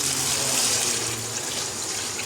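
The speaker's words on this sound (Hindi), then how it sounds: "अब मैं इसमें पानी शामिल कर दूँगी।" A steady stream of water pours and splashes into a cooking pot of spiced chicken pulao, a continuous hissing rush at close range with no voices.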